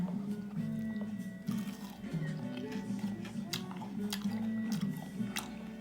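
Close-up chewing and biting of homemade Kyochon-style wedge potatoes, soft crunchy mouth sounds repeating steadily under a low background hum.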